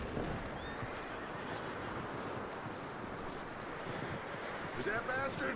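Horse whinnies and hooves clip-clop in a Red Dead Redemption 2 game scene, steady and continuous under a dense background of game sound and voices.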